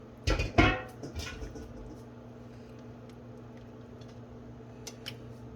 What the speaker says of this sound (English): And we're just gonna stir that in.